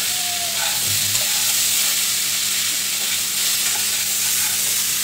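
Figs fry with a steady, loud sizzle and hiss in a pan while being stirred, with a few brief scraping clinks partway through and no voices.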